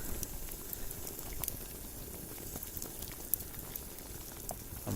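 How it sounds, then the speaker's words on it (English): A pot of water on a firebox camping stove at a Dartmoor wild camp bubbles at a rolling boil, a dense steady crackle and patter heard up close without talk. "better to have it boiling over than not being able to get it to boil"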